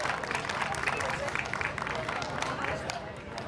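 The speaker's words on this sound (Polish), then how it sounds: "Jeszcze raz wielkie brawa." Audience applause at a Lemko summer talent show, a steady dense wash of clapping from a crowd filling the whole stretch with no speech over it.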